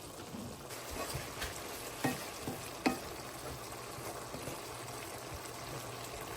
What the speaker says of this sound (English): Over here we have the corn and it's boiling pretty vigorously.